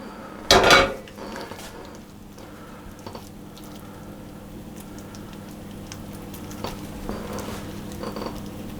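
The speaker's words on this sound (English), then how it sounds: "pour the praline and almonds over the top and spread that all over very quickly" Praline and almonds are spread over the top of a cake with a single loud clatter of utensil against dish near the start, then soft scraping and faint taps continue quietly.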